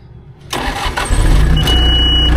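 A John Deere 850J dozer engine starts up after a brief quiet moment and settles into a loud, close, steady diesel idle, with a faint beep partway through.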